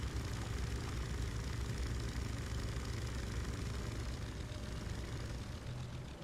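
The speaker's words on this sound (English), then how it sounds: "Artificial engine sound is cringe." A synthetic boat engine from the video game The Sinking City drones steadily at low pitch, a constant muffled idling hum with no pauses or changes in rhythm.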